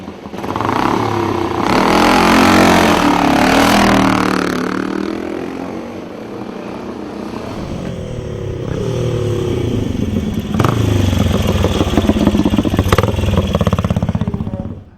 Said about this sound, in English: Three very nice racing gold stars. And a real race bike takes to the hill.